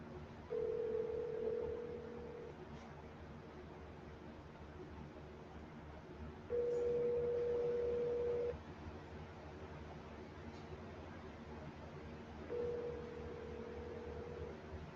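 A telephone tone beeps faintly in three steady, evenly spaced pulses over a quiet hiss of line noise, alone with no talking, as outbound calls are placed.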